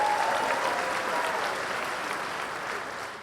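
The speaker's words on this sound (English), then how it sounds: "let's give them a nice round of applause." Sustained applause from a crowd at a county Democratic Party convention honoring long-serving public servants, a dense steady clapping roar that fills the space and fades slightly toward the end.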